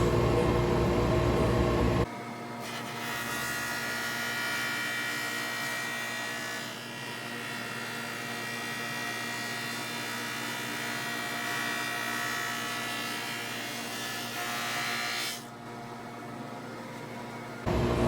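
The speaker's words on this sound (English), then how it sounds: "Nice thing about this type of sander, it's open-ended, so you can flip it over and go either direction." An open-ended sander smooths wooden boards for a baby bassinet, its motor starting after a brief noisy moment and then droning steadily and loudly for about thirteen seconds before cutting off.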